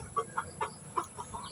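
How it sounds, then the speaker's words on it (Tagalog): A native hen, a good egg layer, clucks in short separate bursts, about five quick clucks at close range, with no talk over them. "Marami siya mangitlog yung inahin na yan."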